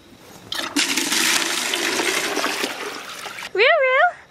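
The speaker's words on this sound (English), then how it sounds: "if I put some fresh water on top that's warmer, it'll thaw even faster" Fresh, warmer water gushes and splashes onto frozen water buckets on a farm, a loud rushing pour lasting about three seconds, followed by a brief high vocal sound.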